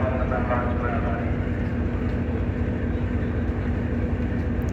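The Jaffar Express from Quetta to Peshawar pulls into Rawalpindi railway station, a loud, steady rumble of the train rolling in close by across the whole stretch.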